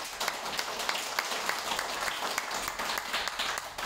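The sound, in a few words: audience applause at seminar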